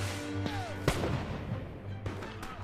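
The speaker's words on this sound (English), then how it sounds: "Keep firing!" Musket and cannon gunfire in a French and Indian War battle reenactment: a few sharp, distant reports, faint, over a steady low hum.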